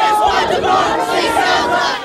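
A large crowd of about 2,000 protesting students pressed against a door, shouting and roaring together in a dense, continuous mass of voices with rising yells throughout.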